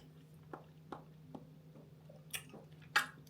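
Mango passion fruit protein jelly is eaten in soft, squishy bites, with about six quiet wet chews and smacks spaced through the clip, close to the mouth and alone.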